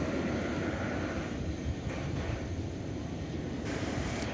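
An Airbus A300, twenty years old, flies past at DFW airport at night, a steady broadband engine roar with wind buffeting on the microphone, continuous and fairly close throughout.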